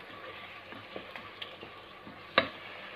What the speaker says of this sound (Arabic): هاي البصله نخليها تشحر مع التوابل